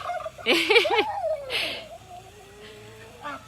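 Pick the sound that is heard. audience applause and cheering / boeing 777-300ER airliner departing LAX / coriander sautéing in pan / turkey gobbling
turkey gobbling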